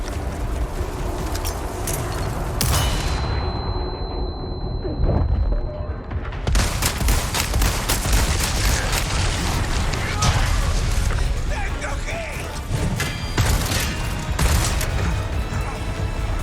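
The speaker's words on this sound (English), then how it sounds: "A lot of rockets, man." Rocket blasts in the Resident Evil 4 Remake, Separate Ways: dense, loud booms and crashes fill the scene, with a brief high-pitched ringing lull in the middle before the chaotic explosive barrage resumes, a voice occasionally over it.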